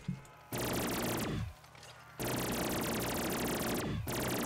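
A minigun in Call of Duty Black Ops 3 custom Zombies unleashes long, loud sustained bursts of rapid fire, with two brief pauses breaking the roaring stream.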